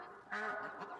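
A single goose gives a short nasal honk that rises and then trails off, close and fairly loud, with a second brief call near the end.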